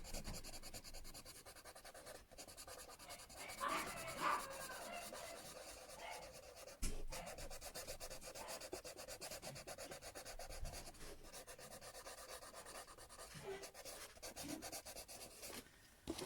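A colorless blender pencil rubs steadily across paper while a hedgehog and leaves are being colored, producing close, continuous scratchy strokes with brief pauses and no speech.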